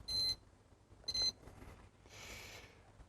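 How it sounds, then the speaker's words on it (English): A ThermPro digital thermometer alarm beeps near a smoker cooking baby back ribs, with two short bursts of rapid high-pitched beeping about a second apart followed by a softer hissing noise. "the alarm had gone off because the temps started dropping as I've lifted the lid"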